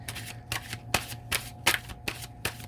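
Tarot cards being shuffled by hand in a quiet room, a run of crisp riffling bursts at a steady pace, about six quick snaps, close and fairly soft, with no talking.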